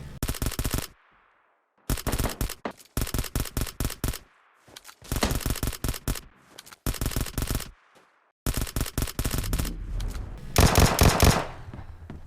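Burst-fire Vector gunshots in PUBG Mobile, coming as several loud, tight clusters of rapid shots separated by short silences, with a longer sustained burst near the end.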